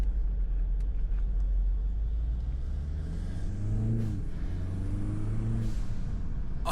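A BMW G20 330i engine with an upgraded intake, charge pipe and blow-off valve hums steadily, then revs up with rising pitch a couple of times as the car accelerates, heard from inside at moderate loudness.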